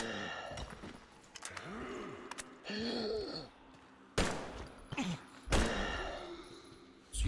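Bursts of gunfire from the post-apocalyptic shooter Metro Exodus, several sharp loud blasts at irregular moments amid rumbling game ambience, with a voice talking in between.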